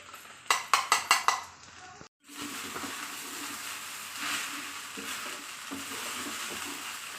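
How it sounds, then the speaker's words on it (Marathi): Sago pearls and crushed peanuts roast in a pan: a quick run of spoon clatters against the pan, a short gap, then a soft continuous sizzle with gentle stirring and scraping. "दहा मिनिटं शाबू भाजत राहायचं"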